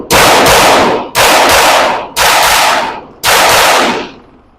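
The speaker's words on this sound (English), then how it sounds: "What I'm practicing is slapping the trigger and not disturbing the gun" Four loud handgun shots fire in quick succession at shooting practice, each a sharp crack with a short echoing tail, evenly spaced about a second apart, the last ringing out longest.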